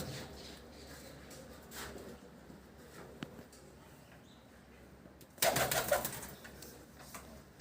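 Pigeons coo and shuffle faintly against steady background noise, then a sudden burst of wing flapping breaks out near the end.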